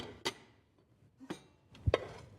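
A plate set upside down onto a cake pan holding an apple upside-down cake, heard as a few faint, sharp ceramic-on-metal clinks and taps spaced apart in a quiet kitchen.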